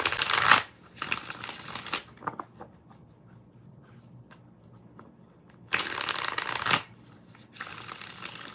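Tarot cards being shuffled in two loud riffling bursts, one near the start and one later, separated by quieter soft handling and tapping of the deck.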